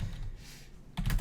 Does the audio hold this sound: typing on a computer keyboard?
yes